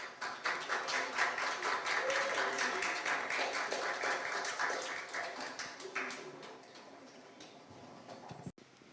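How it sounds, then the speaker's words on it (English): An audience applauds warmly to welcome panelists at an evening conversation event at MOCA. The clapping is steady and fairly distant for several seconds, then tapers off. "So please come on up and a warm round of applause."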